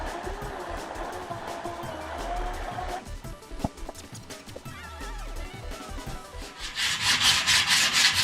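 Hand sanding with 80 grit paper on a hard block rubs rhythmically along skateboard edges, close scratchy back-and-forth strokes that grow louder and brighter toward the end.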